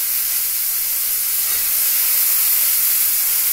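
Potatoes fry in hot oil in a pan, giving a continuous loud, bright sizzling hiss that stays even from start to finish with no talk.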